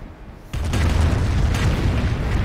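Artillery shelling in the strategy game Company of Heroes lands as a sudden loud boom that turns into a sustained rumbling roar of explosions lasting a couple of seconds.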